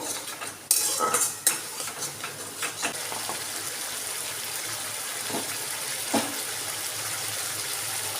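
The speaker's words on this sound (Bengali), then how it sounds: "ধনে গুঁড়ো দিয়ে দেবো একটু, জিরে গুঁড়ো দিয়ে দিলাম। এটা ভালো করে কষিয়ে নেব।" Spices with ground coriander and cumin sizzle and fry in a pan for pumpkin kofta curry, punctuated by sharp clinks and scrapes of a stirring spoon against the pan, with no talking.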